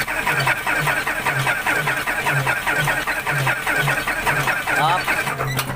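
An Isuzu 10PE1 diesel engine, just through a general overhaul, cranks in a steady rhythmic cycle, loud and close, with voices talking over the churning starter.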